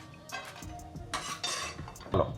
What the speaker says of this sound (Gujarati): હવે આ બદામની કતરણ નાખી દઈશું